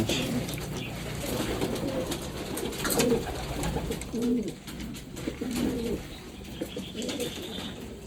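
Two young pigeons in a loft coo softly and repeatedly while wings flap in brief bursts, close and fairly loud over a steady background, with no talk.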